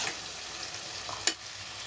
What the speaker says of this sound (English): Mix it well and fry till the raw smell goes.